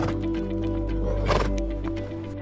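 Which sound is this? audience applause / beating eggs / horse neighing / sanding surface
horse neighing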